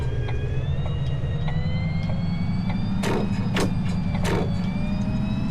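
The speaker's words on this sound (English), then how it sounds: "because it's only a little bus and it's got a little bit of an engine" A small, old-fashioned bus with a little engine drives along in TheBus, its steady low engine drone and whine continuous throughout, with a few sharp bursts of higher noise near the end.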